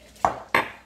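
Utensils clink twice against a bowl while avocado zoodles are mixed, two sharp, close knocks about a third of a second apart, with no talking.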